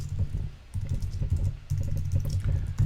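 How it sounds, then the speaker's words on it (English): Close, muffled typing on a computer keyboard, quick irregular bursts of keystrokes with brief pauses. "I don't know what's going on with my typing today."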